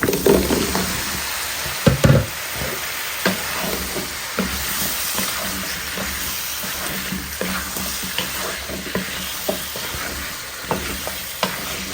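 Chopped gourd tipped into a pan of frying spice paste, a steady close sizzle with scraping stirs and occasional knocks of the spoon against the pan, no talk.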